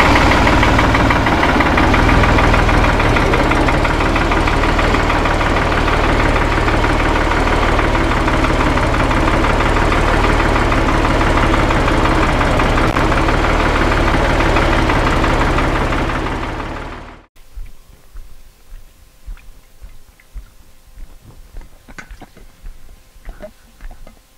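A tractor engine idles loudly nearby with a steady knocking chug, then cuts out about two-thirds of the way through, leaving a quiet background of faint scattered noises.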